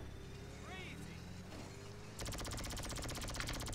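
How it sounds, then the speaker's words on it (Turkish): Laser gun firing in GTA 5: a fast, dense stream of repeating bursts kicks in partway through, quiet and steady over a low background rumble. "Abi lazer patlatması da çok güzel."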